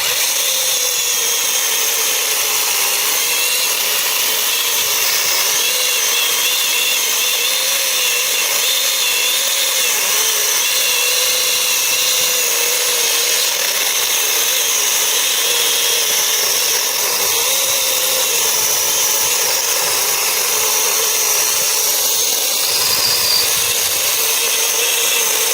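A YUANSEN cordless chainsaw cuts through a thick log, a loud continuous high-pitched whine of motor and chain held steady for the whole stretch without pause.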